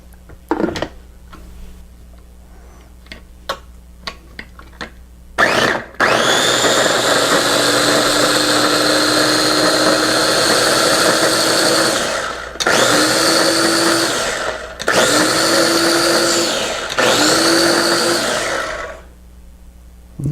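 A blender whirs loudly for several seconds blending a blackberry, goat milk kefir and raw egg yolk smoothie, stops briefly, then runs in three shorter pulses, with a few light clicks and knocks before it starts.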